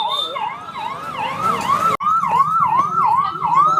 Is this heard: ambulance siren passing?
yes